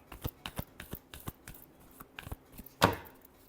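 Tarot cards riffled and shuffled by hand in a quick series of crisp, close flutters and taps, ending in one louder burst, with no talking.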